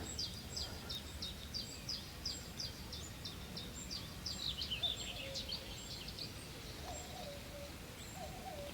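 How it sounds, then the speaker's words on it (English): A cuckoo calls faintly and at a distance by a lake. Its soft low notes repeat under sharper chirps from other birds against a quiet outdoor background. "Lovely cuckoo."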